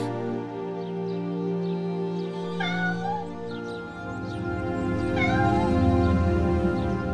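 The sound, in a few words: cat meowing in the cold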